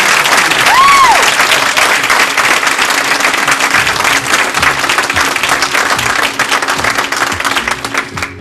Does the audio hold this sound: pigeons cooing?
no